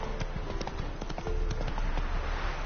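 Horse hooves clip-clopping in a PS4 video game, a quick run of hard hoof knocks over a low rumbling backdrop, steady and close.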